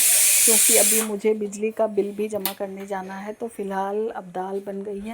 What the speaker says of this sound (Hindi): प्रेशर कुकर की विसिल बज रही है। मैंने दाल चढ़ा रखी है